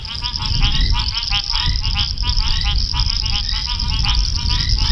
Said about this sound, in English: you can hear behind me how the bush has absolutely come to life with the rain that we had last night. These frogs and toads going ballistic